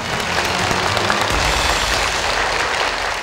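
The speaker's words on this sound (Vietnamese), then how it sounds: "Một tràng vỗ tay để phần 2 của chúng ta bắt đầu ngay bây giờ" Studio audience clapping on a Vietnamese picture-guessing game show, a steady dense wash of applause filling the space with no voices over it.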